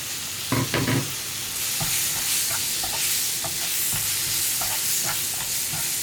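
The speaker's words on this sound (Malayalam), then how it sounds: "ഇനി ഇതിലേക്ക് ചേർക്കുന്നത് 2 തണ്ട് കറിവേപ്പിലയും നമ്മൾ കട്ട് ചെയ്ത് വെച്ചിരിക്കുന്ന തക്കാളിയും." Curry leaves and chopped tomatoes sizzle in hot oil for a paneer pepper masala, with a steady frying hiss throughout and a few sharp clanks of a spoon stirring the pan near the start.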